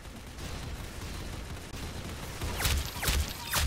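Rapid gunfire in the Roblox shooter Arsenal, a dense continuous burst of shots that grows louder with sharper cracks toward the end.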